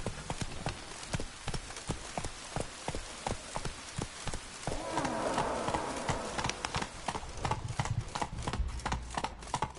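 Horse hooves on a ride in a fantasy role-playing game, a steady rhythmic clip-clop of close hoofbeats throughout, with a brief hiss of wind or rain partway through and no talk.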